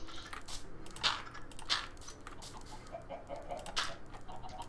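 Minecraft chickens clucking in the video game, a few faint short clucks at irregular intervals over quiet background, with no talking.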